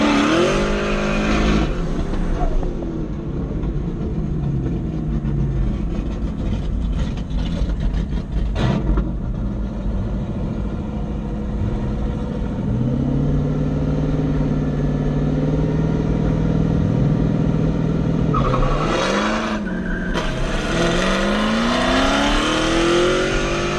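A turbocharged Chevrolet Camaro 1LE drag racing over an eighth mile: loud, close engine roars through several gear changes, with rising revs, a brief drop between shifts and a final surge near the end, no voices.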